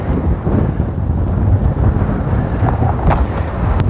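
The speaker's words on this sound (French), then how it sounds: "Il y a carrément du vent." Strong wind buffets the microphone with a constant low roar and rumble, loud and unbroken throughout.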